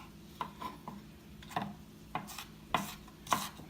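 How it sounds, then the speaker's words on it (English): A kitchen knife chops an onion finely on a board while a family meal is prepared. About eight crisp, close, irregular chops ring out with no talking. "now let's chop an onion."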